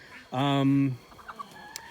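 A backyard chicken lets out one loud, drawn-out cluck up close, followed by a few soft, short clucks and scratching noises in a garden by a cattle panel greenhouse.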